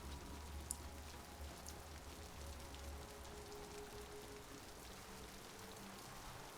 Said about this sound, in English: I love rain